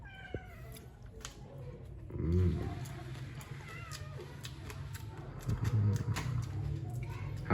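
Cat meowing a few times at a small gathering, soft and mid-distance, mixed with quiet background chatter and room noise.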